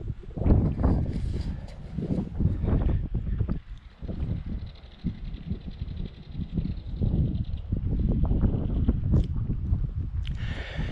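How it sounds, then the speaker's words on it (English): Cold, strong wind blowing outdoors by a graffiti-covered bridge, buffeting the microphone in continuous loud gusts and rumbles with no speech. "It is a very cold and windy day"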